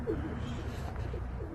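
Soft, low pigeon coos repeat through a steady murmur of background noise, fairly close and moderately loud.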